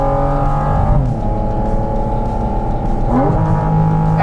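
A Porsche Cayman GT4 RS engine revs hard toward 9,000 RPM, loud and close, with rising pitch sweeps and a gear change partway through before climbing again.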